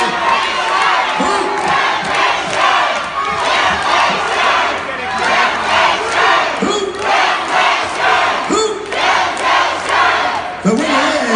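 A crowd at a dance party aboard the Carnival Inspiration cruise ship cheers and shouts for a challenge winner, loud sustained whooping and yelling that swells in repeated waves, with voices rising above the roar.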